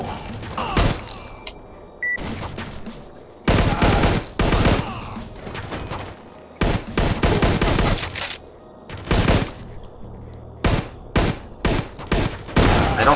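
Repeated bursts of loud, close gunfire in the video game Foreign Legion: Buckets of Blood, rapid volleys separated by short pauses, each burst sharp and punchy.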